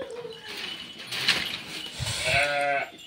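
A flock of sheep reared on a Telangana farm, several bleats rising near the end over a faint mechanical rattle and background clatter, fairly close and without speech.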